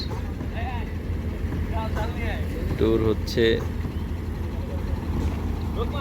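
A small motor trawler's engine drones steadily throughout on a river, with a voice speaking over it and a rushing wind-and-water background.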